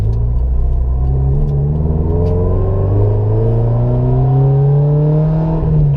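A supercharged Subaru BRZ with a 3-inch exhaust revs steadily and loudly, its engine note climbing smoothly with a whining tone running over the rumble for the whole stretch, no voices.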